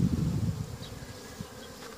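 Honeybees, drones among them, hum around an open hive during a spring queen-cell check, a dense close buzz that thins out after the first second.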